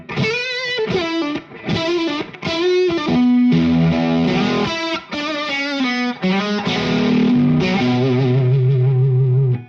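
Electric guitar through a King Tone fuzz pedal with a touch of Octavia octave effect, playing loud, thick, distorted riffs with sustained saturated notes and choppy rhythmic bursts, no talking.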